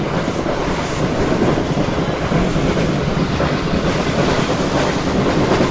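The Karakoram Express runs on its rails in winter, a loud, steady rolling roar of wheels and carriages heard close from on board, continuous and unbroken with no voices.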